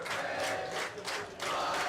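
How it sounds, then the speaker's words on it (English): The Eau Claire Memorial Old Abes football team sings together in front of a cheering home crowd, a loud surge of massed voices that swells in two waves across a brief stretch. "Old Abes testing out their singing voices, much to the delight of the home crowd"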